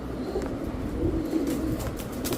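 A pair of Babra pigeons coo in low, throaty rolling calls, close and continuous, with faint rustling and chirps in the background.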